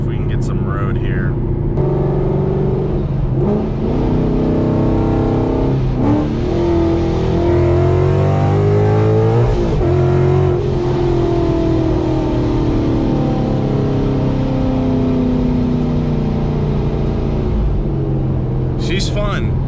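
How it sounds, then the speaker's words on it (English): A supercharged car with a Procharger revs and pulls hard on the road, pitch climbing through gears with loud, close roaring and brief shifts in between. "I think we can do one pull with this car"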